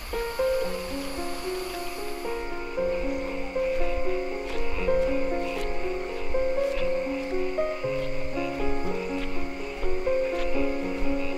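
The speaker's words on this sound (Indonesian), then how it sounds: "Nah, suara kodok tuh." A chorus of frogs and insects at night near Gunung Burangrang, with overlapping steady tonal calls and chirps in a dense, continuous layer throughout.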